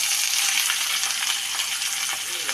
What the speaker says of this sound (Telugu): ఉల్లిపాయ కొంచెం లైట్గా వేగిన వరకు వేపుకుందామండి